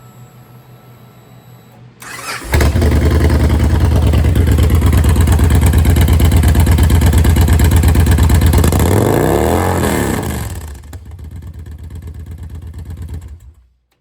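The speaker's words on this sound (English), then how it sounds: "the exhaust is an extremely loud 2-into-1" A 2011 Victory Kingpin 8 Ball motorcycle with a very loud 2-into-1 exhaust fires up and holds a heavy, rumbling rev for several seconds, then drops back to a lower idle before cutting off.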